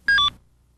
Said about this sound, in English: As the charge level becomes too low, you'll see this message on the display, and you'll hear this warning.